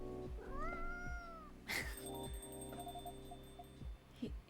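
A house cat gives one long, wavering meow near the start, followed by a sharp burst of noise, all over a repeating thumping music loop with faint chiming tones in a coffee-shop game setting.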